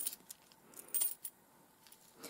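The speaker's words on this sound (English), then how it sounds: "And the sound effect is shuffling coins." Coins shuffled and clinking together, several small metallic taps and jingles in an irregular rhythm, close and quiet, with no voices.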